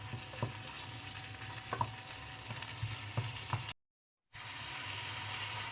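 Shrimp sizzle and crackle steadily in a hot pan while a utensil scrapes and stirs in uneven strokes, with a short silent gap.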